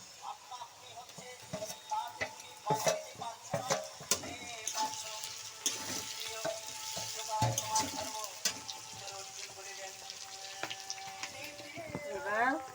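Spices and onion fry in a pan before chicken goes in, a soft sizzle under irregular stirring scrapes and clatter, fairly quiet and close, with faint talk in the background.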